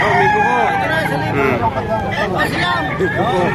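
A bulik rooster crows among other fowl at a gamefowl market, loud, close calls rising and falling over a dense babble of people talking nearby.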